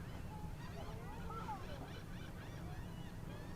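Birds call by the water on a beach in Rockport, Texas, faint honking and goose-like cries scattered over a steady wash of waves and low rumble.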